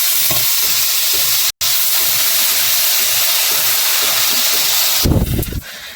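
Grated carrots fry in buffalo ghee for carrot halwa, a loud continuous sizzle with rhythmic scraping as they are stirred, briefly interrupted once and rising into heavier clatter near the end.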